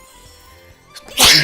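A single sharp, loud sneeze bursts out at the end after a stretch of quiet low background, close to the microphone.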